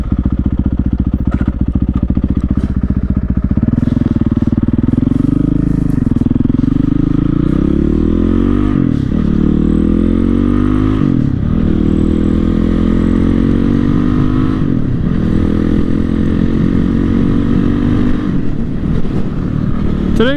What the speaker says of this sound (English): today we're on the Supermoto and we're gonna go for a little ride.